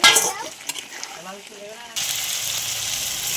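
Green cauliflower (broccoli) hitting a pan with green chili paste, a brief clatter and voice at first, then a sudden steady hiss of sautéing that stays loud and even to the end.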